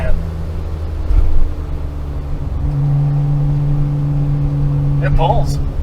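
A Nissan Skyline R34 GT-R, a Millennium Jade M-Spec Nür, accelerates with a steady droning engine note that rises in pitch as it pulls, heard from inside the car with voices over it.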